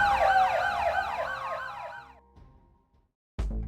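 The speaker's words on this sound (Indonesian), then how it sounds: "Kemudian ia dibangunkan oleh sirine polisi yang sudah mengepung" A police siren from an action film wails in rising and falling sweeps, loud and close, then cuts out into near silence before a sudden heavy sound at the end.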